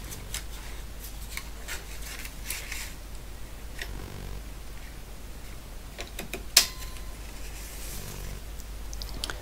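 A Trend 612 paper tape reader and punch duplicates a tape, giving faint, intermittent mechanical clattering bursts and one sharp click over a low steady hum.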